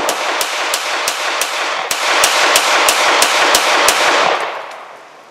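Browning High Power pistol from the 1940s fired with an extended magazine, a rapid string of about a dozen sharp, loud shots at a quick, slightly uneven pace, then a fading ring-out.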